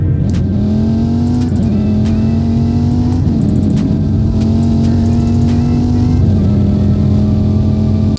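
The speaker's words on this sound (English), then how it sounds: "this car does have a nice engine sound" A car engine drones loudly and continuously, its pitch climbing in steady revving pushes with brief dips between gear shifts.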